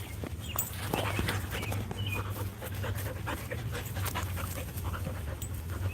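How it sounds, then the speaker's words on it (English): Several dogs pant steadily close by in a backyard, quick rhythmic breaths running through the whole stretch with no talking. "got my dogs around me"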